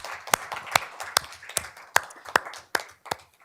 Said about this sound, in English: how about a round of applause for the Parker group?